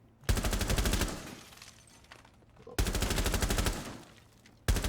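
Rapid automatic gunfire in the video game Rainbow Six Siege comes in two long, loud bursts with a pause between, followed by the start of a third burst, dense and continuous like a fast-firing weapon.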